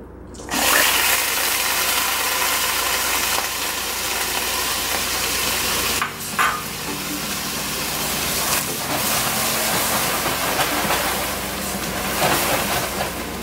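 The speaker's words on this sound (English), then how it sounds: "You're going to add half a cup of heavy cream and be really careful because this will splatter" Heavy cream poured into hot caramel in a pan, a loud sustained hiss of splattering and vigorous bubbling running steadily throughout with brief dips, no voices.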